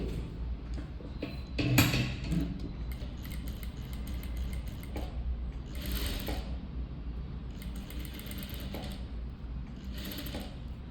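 A sewing machine stitching folded fabric for a boat-neck blouse side seam runs in short whirring bursts with mechanical clicks and rattles between them, close but quiet.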